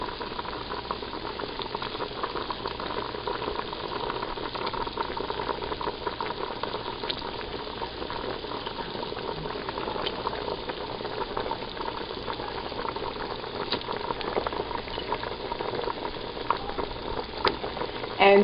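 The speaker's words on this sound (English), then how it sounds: "the fowl has been cooking for about, I would say, 15 minutes" Fowl and smoked turkey wings boiling in a pot for okra soup, a constant close bubbling simmer with faint scattered ticks and clinks, steady throughout.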